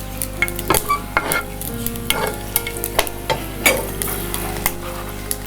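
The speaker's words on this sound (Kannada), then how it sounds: "ಒಗ್ಗರಣೆಗೆ ಕುಸುಬಿ ಎಣ್ಣೆಯನ್ನು ನಾನು ಒಗ್ಗರಣೆಯಲ್ಲಿ ಬಳಸ್ತಾ ಇದ್ದೀನಿ ಸಾಸಿವೆ ಬೆಳ್ಳುಳ್ಳಿ" Mustard seeds and garlic crackle and sizzle in hot safflower oil for a tempering, with sharp pops and spatula stirs scattered over a steady close hiss; no voices.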